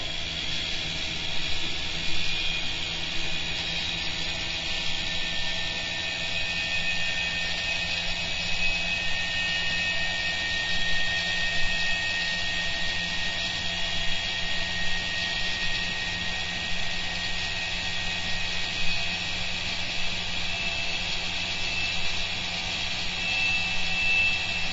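A small electric motor with a three-way stepped coil runs at a steady high speed during a live bench test, giving a constant close whine and hum with a faint rattle and no speech over it.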